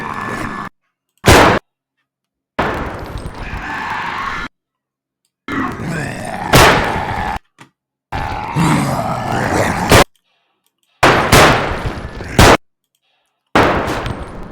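Loud, close bursts of gunfire and clanging impacts from a zombie video game arrive in choppy chunks separated by abrupt silences, with grunts mixed in.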